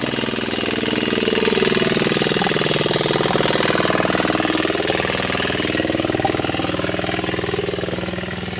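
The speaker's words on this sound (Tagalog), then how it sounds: "ang ingay ng makina kasi, yun yung pinagkukuha nila ng tubig pang supply dun sa may dam" A loud, steady water pump engine at a dam chugs rapidly and continuously nearby, a rattling, knocking drone with no pauses.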